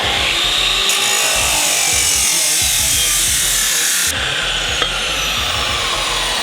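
A steel exhaust U-bend for a budget turbo setup on a 4.0L Intech AU Falcon drift car is chopped with a power cutting tool, giving a loud, sustained abrasive whine that runs steadily with a brief change partway through, no talk.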